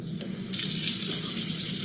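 Water gushes steadily from a tap into a sink, starting with a soft trickle and then running loud and close, a continuous broadband rush that holds until the end.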